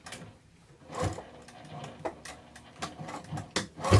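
A sewing machine stitches a Bristol zipper pouch in quick, uneven mechanical bursts, near and moderately loud, with short pauses and clunks between runs and no talking.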